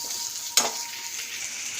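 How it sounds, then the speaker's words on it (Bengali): Onion stalks fry in a pan of hot oil with a steady close sizzle, and a single stir or clatter jumps out partway through. "এবার আমি পেঁয়াজ কুলি দেবো। এটাকে ভালো করে একটু ভাজবো"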